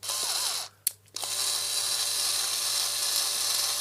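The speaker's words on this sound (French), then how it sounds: "Et là je visse avec toujours mon tournevis Ishika, que j'avais présenté dans une vidéo." An Ishika electric screwdriver drives screws while a laundry room is fitted out as a home cinema. Its whirring motor runs, cuts out for a moment and starts again, then carries on steadily and fairly quietly.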